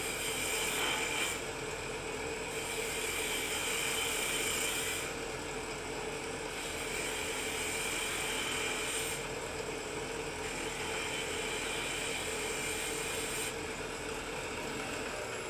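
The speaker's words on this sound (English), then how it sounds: "We're just going to take a spindle gouge and make that into a little ball." Wood on a lathe is cut with a spindle gouge while shaping a small ball for a rustic bird house ornament, giving a steady whirring machine drone with a faint scraping hiss that comes and goes in passes.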